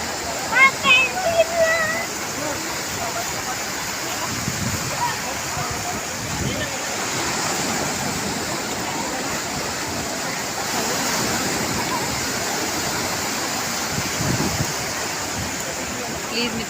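Sea waves wash onto the shore during a Ganesh idol immersion, a steady broadband roar of surf lasting throughout with faint voices mixed in.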